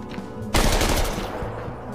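A sudden burst of rapid gunfire erupts after a brief quiet moment, loud and close, then trails off into a ringing echo.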